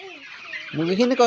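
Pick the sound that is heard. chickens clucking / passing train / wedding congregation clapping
chickens clucking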